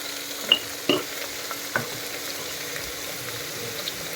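Lengthwise-sliced onions sauté in a pan for biryani, a soft low sizzle broken by a few sharp utensil scrapes and taps as they are stirred.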